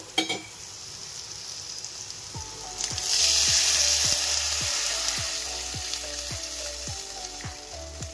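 Spice paste fries in a pan for a fish roe fritter gravy. A loud hiss surges as water is poured in, then a steady sizzle continues under regular rhythmic scraping and stirring. No one speaks.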